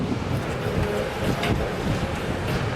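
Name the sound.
big ocean waves at a surfing beach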